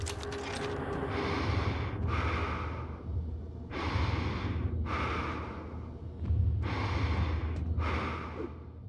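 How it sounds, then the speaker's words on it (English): Heavy, rhythmic breathing inside a space helmet in the video game Prey, with a series of loud inhale-exhale cycles spaced about a second apart over a low ambient hum, no talk. "the distinct, clear sound of Morgan breathing in their helmet"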